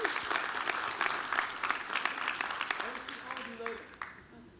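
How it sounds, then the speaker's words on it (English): Conference audience at MagentoLive Australia 2014 applauding a developer evangelist, a full burst of clapping that fades toward the end with some voices mixed in. "Let's give Ben a round of applause."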